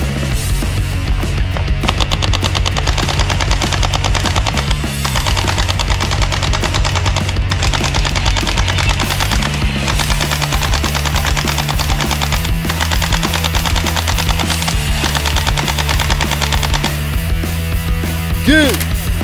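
A toy AK47 submachine gun sound effect blasting rapid continuous electronic gunfire bursts, loud and close, with driving background music throughout.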